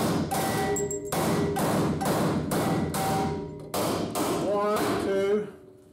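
Leaf spring pins on a 1951 Ford F-1 being driven out with a hammer and punch, seven or eight loud, ringing metallic blows at a steady pace, close by.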